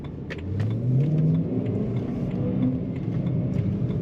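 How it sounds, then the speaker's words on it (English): A 2013 BMW M3 Lime Rock Edition engine revs up with a rising whine over a throaty exhaust note, loud and close, steady throughout with no talk. "It has a supercar sound to it. Nice little whine and a throaty exhaust note."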